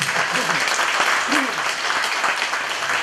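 An audience at a lecture hall applauding a provincial governor after a special talk: dense, sustained clapping from many hands at an even level, with a voice briefly audible beneath it.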